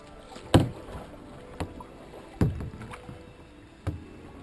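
Paddle strokes from an Old Town Predator XL kayak on a river, four distinct splashing pulls spaced unevenly over soft water and light wind, close by.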